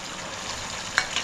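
Wet cauliflower hits a small hot kadhai of gravy and sizzles in a steady frying hiss. A sharper spatter or stir sound comes near the end. Nobody speaks.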